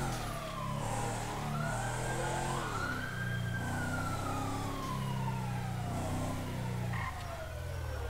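Several emergency vehicle sirens wail in overlapping sweeping rises and falls in GTA, moving through traffic with engine noise beneath, moderately distant.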